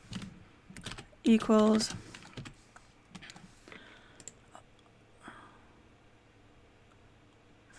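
Code being typed on a computer keyboard, a run of quiet clicking keystrokes with one louder burst near the start, under brief speech and room noise.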